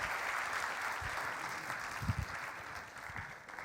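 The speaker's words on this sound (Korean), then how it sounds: "우리 다시 한번 수고하신 장로님들에게 2배로 뜨거운 박수" Applause from a church congregation for its elders at a New Year revival service, a steady mid-level wash of clapping that keeps going for several seconds, swelling slightly near the middle and easing off toward the end.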